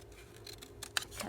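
Scissors snip through scraps of paper for scrapbooking embellishments in a few quick, close, crisp cuts, with a sharp snap near the middle of a short, quiet burst.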